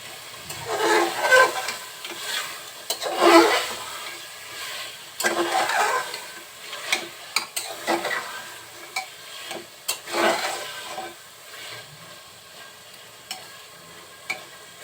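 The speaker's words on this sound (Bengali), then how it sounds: "এখন মাংসগুলো মশলার সাথে খুব সুন্দরভাবে কষিয়ে নেব।" Beef braised with spices in a pan, with repeated bursts of sizzling as a spoon stirs and scrapes the meat, irregular and close, with quieter gaps between the strokes.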